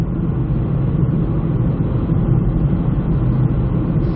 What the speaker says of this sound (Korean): 차가 방음 수준은 나쁘진 않은데 타이어 소음에서 다 까먹습니다